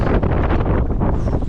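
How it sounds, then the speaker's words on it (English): Gusty outdoor wind buffets the microphone in a brief, loud, rumbling roar on a cold day beside an old Ford F150 pickup. "A little windy."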